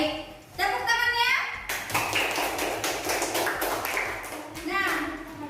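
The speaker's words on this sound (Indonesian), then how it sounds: "Tepuk tangannya." Children in an Indonesian classroom clap their hands together on a teacher's cue after a story, a burst of rapid claps blended with their voices and chatter.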